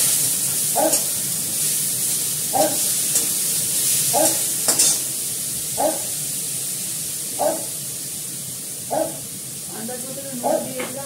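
Pointed gourd (potol) frying in a red wok gives a steady sizzle, with periodic stirring scrapes and a few faint voice sounds in the background.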